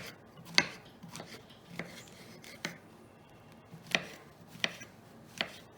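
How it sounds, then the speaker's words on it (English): Several sharp knife chops on a board as a mushroom is sliced, spaced irregularly with quiet gaps between cuts, close and crisp with no talking. "I'm going to chop my mushroom"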